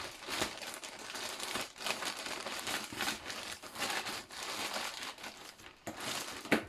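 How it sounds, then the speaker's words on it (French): A large white plastic mailer bag being opened, with continuous close crinkling and crumpling of the plastic, rustling bursts rising and falling over several seconds. "c'est présenté déjà dans un grand sachet blanc que je vais ouvrir tout de suite"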